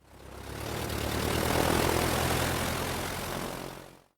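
A small propeller airplane flies past, its droning engine swelling from faint to loud and holding a steady rumble before cutting off, with no voices over it.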